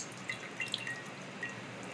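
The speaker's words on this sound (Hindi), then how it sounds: "दूध हमारा फट गया था, उसे हम निकाल लेंगे, ये देखिए इस तरह से इसे निचोड़ लेंगे" Water dripping and trickling from squeezed curdled milk as whey is pressed out while making mozzarella cheese, a few soft splashy drips at close range over a quiet background.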